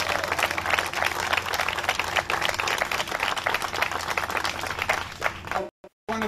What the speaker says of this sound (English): One more round of applause for Anthony.